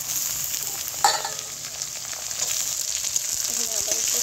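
Eggplant pieces sizzle steadily in a pan with onion and potato, with a soft stirring scrape and a brief clatter partway through.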